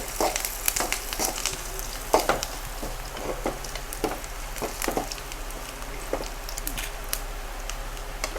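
Curry leaves and mustard seeds frying in hot oil for a Mangalorean crab curry, a steady close sizzle dotted with sharp pops and crackles throughout, no voices.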